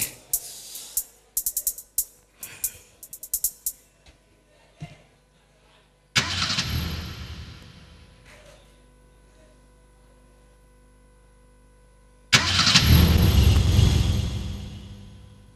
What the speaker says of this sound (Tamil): சரி, வண்டியை ஸ்டார்ட் பண்ணுவோம், பார்ப்போம் வேற என்னச்சே.